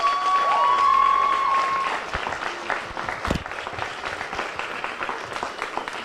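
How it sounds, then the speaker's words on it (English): An audience at a concession speech breaks into applause, a sustained wash of clapping hands from a crowd that carries on steadily across the room, with a brief tone heard at the start. "So can you give a round of applause for Chris Cox?"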